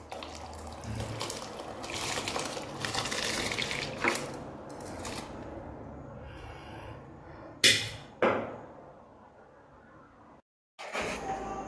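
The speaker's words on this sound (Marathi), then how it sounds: "आता तांदूळ टाकते।" Basmati rice pours into a pot of boiling water seasoned with lemon, whole spices and salt for chicken biryani, a soft splashing and bubbling wash with a few sharp clinks of utensils against the pot, fairly quiet and close.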